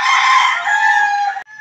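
A pure Thompson White rooster crows at a poultry farm, one loud, close cock-a-doodle-doo that rises, holds and breaks off sharply, followed by a brief faint tail.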